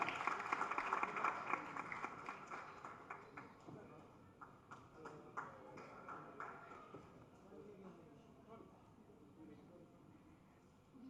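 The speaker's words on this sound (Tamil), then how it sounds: "வரவேற்கிறோம் பலத்த கைத்தட்டலோட" An audience claps to welcome actor Richard Rishi on stage at a pre-release film event. A burst of applause and scattered claps starts strong and fades over several seconds, with faint crowd noise beneath.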